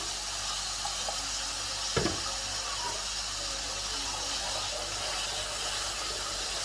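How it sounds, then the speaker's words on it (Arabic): Water poured into a hot pan of simmering beef fillet cubes with onion and garlic, giving a steady loud sizzle and hiss with a brief splash, close and unbroken, with no talking. "بضيف لها كوبايه ميه، بس مش مره واحده"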